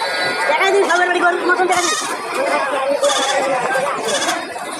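Goats bleating repeatedly at a busy livestock market, several loud, wavering cries close by, mixed with people talking in the crowd.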